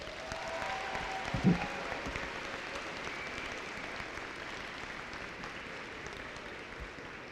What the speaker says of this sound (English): Graduates, please give your parents and guardians a round of applause.